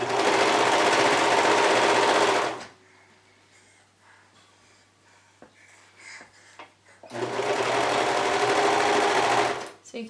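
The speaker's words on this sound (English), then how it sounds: "I like to sew my neck binding on with my presser foot on the inside of the shirt" A sewing machine stitches neck binding onto a t-shirt in two loud, steady runs, with a quiet stretch of faint handling noise in between as the fabric is adjusted.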